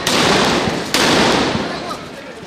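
Tear shells, sound grenades and gunfire at a clash between protesters and police in Chattogram, heard as loud, dense bursts of blasts and crackling reports filling the whole moment, with a sharp sudden bang partway through.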